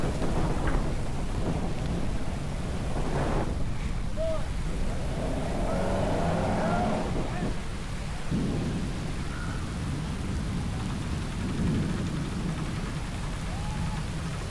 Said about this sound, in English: This rain must sting. It's coming in pretty hard.